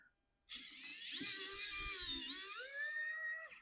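An electric screwdriver undoes the screws on a Game Boy Advance: a close, loud, high motor whine that starts abruptly, holds steady for about three seconds and then drops slightly in pitch near the end. No one speaks.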